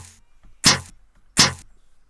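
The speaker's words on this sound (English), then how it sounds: "This is actually the sound of me hitting a pan with a metal drum." A metal drum strikes a pan twice, each hit a sharp, bright clang with a short ringing tail, spaced well apart in otherwise near silence.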